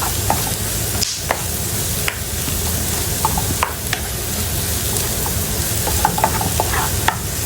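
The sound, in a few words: garlic frying and being stirred with peanuts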